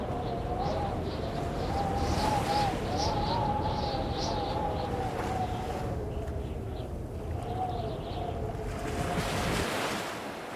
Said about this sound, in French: J'entends comme un clapotement de vagues